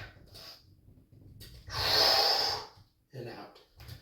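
A deep breath taken during a resistance band chest exercise in a calisthenics workout, a long, loud, close inhale-exhale rush in the middle, framed by short softer breaths and sniffs.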